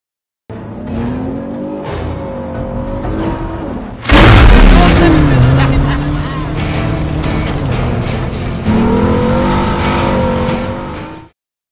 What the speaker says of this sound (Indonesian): Martin pun saat itu juga memutuskan untuk memburu Wes dengan memacu mobil dengan kecepatan penuh